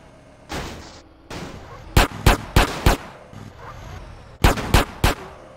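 Bursts of gunfire in GTA San Andreas Definitive Edition: close, loud shots in two quick clusters of about four each, with softer rumbling game noise in between and no talk.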